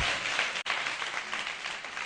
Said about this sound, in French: Wow, on peut l'applaudir